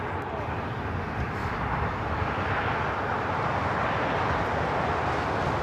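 A heavy passenger jet landing on runway 25 left at Los Angeles airport gives a broad, steady roar that swells slightly over several seconds, heard at some distance with faint radio chatter underneath.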